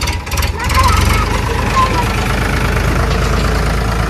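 A tractor engine idles steadily with a low, chugging rumble, close and continuous, while people talk faintly in the background.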